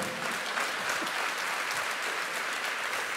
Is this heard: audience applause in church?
yes